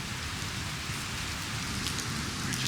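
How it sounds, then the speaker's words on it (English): Steady rain falls on a jungle landscape during a multi-day hike, a dense, even hiss of drops that stays close and continuous throughout, with no voices. "Getting rained on."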